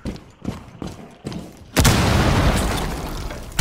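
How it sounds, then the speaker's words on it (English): A loud explosion in the Rainbow Six Siege video game bursts in after a few quieter thumps, then rumbles on and fills the rest of the moment with dense, sustained noise. "There's an explosion."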